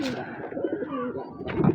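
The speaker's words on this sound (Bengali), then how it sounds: "এই ছেড়ে দেওয়া পায়রা দুটো দেখুন, সেম জোড়া আছে।" Allahabadi Kalsira pigeons, a matched pair, coo close by in a couple of soft, rolling phrases with a brief chirp, no talk over them.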